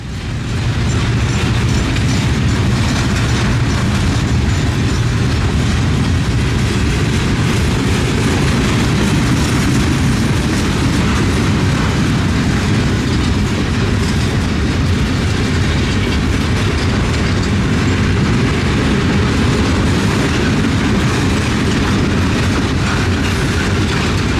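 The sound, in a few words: FEC heavy freight train moving slowly on track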